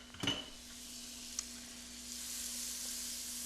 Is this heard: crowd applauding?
no